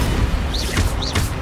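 Two short whooshing fire-spell casts from Hogwarts Legacy, each a brief rising swish with a soft burst, spaced a fraction of a second apart over a low rumbling game background.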